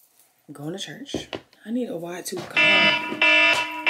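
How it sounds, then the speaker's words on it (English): Someone talks at home, then an alarm starts beeping loudly and steadily near the end, partly over her voice. "That's my alarm and I need to be leaving the house"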